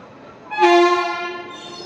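The Amrit Bharat Express sounds a loud, clear horn blast of about a second as it departs Bardhaman station, heard from on board and trailing off slowly.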